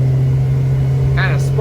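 A 2003 HarborCraft 18 boat with a Yamaha 75 outboard runs at about 5,500 RPM, a loud steady engine drone with a constant low hum, and a voice briefly cuts in near the end.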